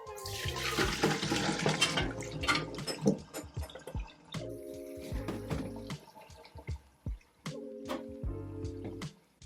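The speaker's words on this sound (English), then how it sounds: "And now we're going to give the chips a good rinse." Soaked potato chips are rinsed under running water, with splashing, dripping and squishy handling close by, sloshing at first and then falling into intermittent drips and wet stirring with short gaps; no speech.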